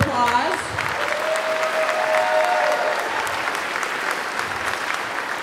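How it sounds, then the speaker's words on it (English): At an elementary school winter concert, the audience applauds the choir director with steady, full clapping from a large crowd, sustained throughout, while a voice briefly calls out near the start. "Let's give her a big round of applause."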